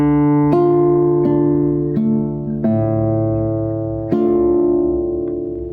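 A classical guitar plays measure 6 of lesson 59 from Sagreras Book 1, about six clear plucked notes and chords ringing out one after another, each decaying before the next, close and solo with no talking.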